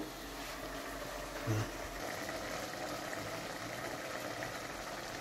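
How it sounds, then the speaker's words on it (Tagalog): Mung beans boiling in a pot, a faint steady bubbling and hiss with a low background hum throughout and one small knock partway through. "Kulo na guys ang munggo ko."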